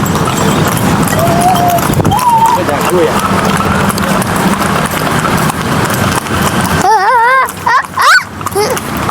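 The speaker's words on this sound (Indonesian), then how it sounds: "Ada kuda tuh seru." Horse hooves clip-clop in a steady rhythm close by on a street during a car-free day, with excited voices talking and a few whistling squeals near the end.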